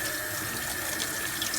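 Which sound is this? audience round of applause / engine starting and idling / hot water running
hot water running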